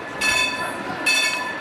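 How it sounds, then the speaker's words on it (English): A Croydon tram in the Roblox video game rolls along the high street, giving two short bursts of high metallic wheel squeal over a low running rumble. "The trams cut right through Croydon High Street at this point"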